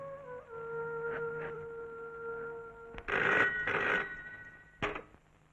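A telephone rings in an office, a steady electronic trill sounding in short bursts over a quiet room, with a louder burst near the end.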